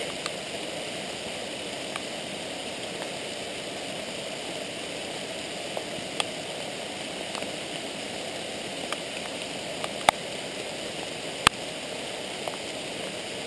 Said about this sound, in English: look at this great little cascade right here.